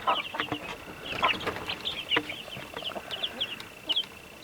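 Chickens in a broiler coop, several birds clucking and chirping in overlapping bursts throughout, close by with a faint flap of wings, no talk.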